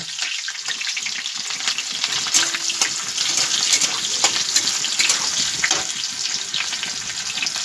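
Onions frying in oil in a home kitchen, with meat and whole green chillies also in the pan: a steady close, dense sizzle runs throughout, broken by occasional louder crackles and spatters, with no talking.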